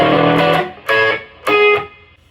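A short electric guitar phrase of three strummed chords with light overdrive, each ringing briefly before the next, played alone.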